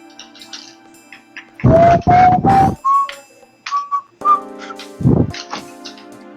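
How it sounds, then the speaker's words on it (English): Steady whistling wind tones in Final Fantasy VIII slide and sustain, broken by a few loud bursts of noise, with soft electronic game sounds underneath. "The whistling that sounds like a really not gentle breeze."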